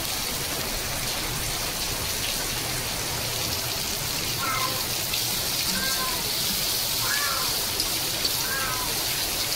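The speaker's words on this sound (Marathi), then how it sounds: "पाऊस पडतोय आमच्याकडे बाजूला" Steady rain falls outdoors as a constant broadband patter, with a few faint bird chirps in the latter half.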